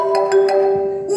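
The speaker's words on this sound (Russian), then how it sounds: "О, Данил звонит." Phone ringtone ringing, a sustained electronic tone with short repeated chime accents, loud and near, lasting about a second with a voice faintly underneath.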